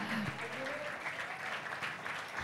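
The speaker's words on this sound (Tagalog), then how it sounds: "1 minutong palakpak sa Diyos" Church congregation applauding at a Filipino worship service, a steady dense wash of clapping with a faint voice briefly audible early on.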